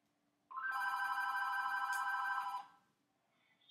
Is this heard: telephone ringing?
yes